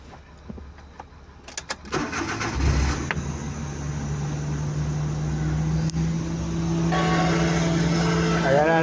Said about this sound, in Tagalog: Sandali, i-on ko lang ang aking sasakyan.